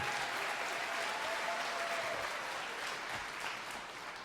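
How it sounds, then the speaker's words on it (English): Audience at the City of Destiny awards ceremony in Tacoma gives a round of applause, a dense, even patter of many hands that stays steady and fades slightly toward the end. "Another round of applause for that great story and for the East Side."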